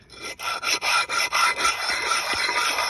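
Glazed brake pads from a race car are scraped back and forth across a rough concrete block, making loud, close, rhythmic rasping strokes, about eight quick passes followed by a steadier grinding rub.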